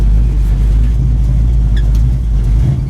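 A 1976 Pontiac Trans Am engine idles loud and close in a low, steady rumble with slight rev swells, no voices.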